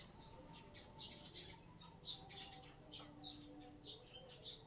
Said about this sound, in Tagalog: Ang daming ibon guys, naguhuni guys, nandyan sa may bubong ng bahay guys.